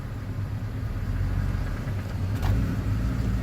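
A 1998–2002 Ford car's engine idles with a steady low rumble as the clutch is slowly let up in reverse, the tone holding nearly even with a slight rise in load near the end.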